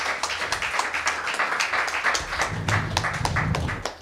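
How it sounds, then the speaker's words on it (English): Applause at a breakdancing event talk show, a moderate, uneven patter of clapping that continues for several seconds, joined by a low rumble partway through. "Applause."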